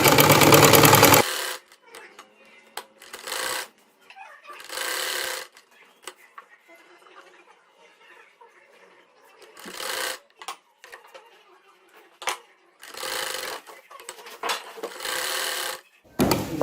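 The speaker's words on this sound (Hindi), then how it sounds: "अब हम शोल्डर की सिलाई लगाने लगे हैं" A sewing machine stitches the shoulder seams of a baby frock, running in several short bursts separated by pauses, fairly loud and close, with quiet handling in between.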